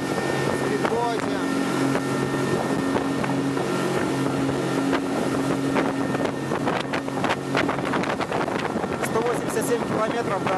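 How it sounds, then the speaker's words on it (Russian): Small speedboat crossing open sea toward an island in the Maldives, its engine a loud steady drone with rushing water and wind buffeting the microphone, continuous throughout, with a voice talking faintly beneath. "поехали на Туренду на маленьком спидботе."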